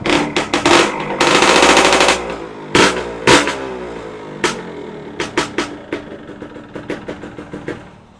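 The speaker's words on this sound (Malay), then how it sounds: "alhamdulillah kita dah masuk dia punya gasket exhaust baru. So jom kita dengar bunyi dia" Motorcycle exhaust with a newly fitted exhaust gasket, revved hard in sharp bursts and a long sustained blip, then a series of quick staccato throttle pops, close and loud with no talking.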